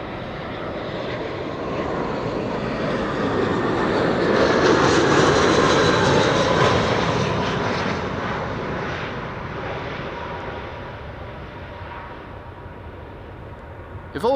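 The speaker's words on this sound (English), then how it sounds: "BA flight 430 arriving from London Heathrow, an A319, making its appearance over here" A British Airways Airbus A319 airliner arriving at Schiphol from London Heathrow passes overhead with a broad, steady jet roar that swells to a peak midway and then slowly fades as it moves away.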